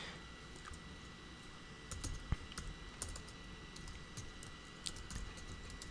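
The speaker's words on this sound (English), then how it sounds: "So if I type in" Typing on a computer keyboard, quick irregular clicks with a few louder isolated key strikes over a steady faint background hum, close and moderately quiet.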